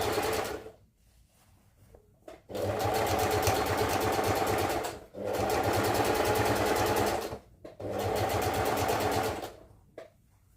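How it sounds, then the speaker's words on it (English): A sewing machine stitches fabric in three long, loud, steady bursts separated by brief pauses, its fast needle clatter running close and alone without any voices. "I will stitch by 1 inch, I mean 1/2 inch"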